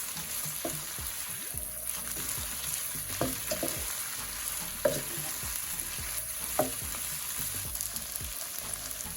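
Strained noodles and flavourings are stirred together in a hot pan, with a constant low sizzle under repeated scraping strokes at an uneven rhythm, close by and without speech.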